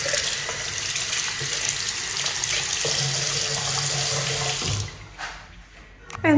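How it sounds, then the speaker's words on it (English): Tap water runs steadily into a sink while hands are washed under it, a close, continuous rush lasting about five seconds before the flow stops and faint handling sounds follow. "I tried to wash my hands"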